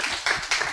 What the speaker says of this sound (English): give Mark a round of applause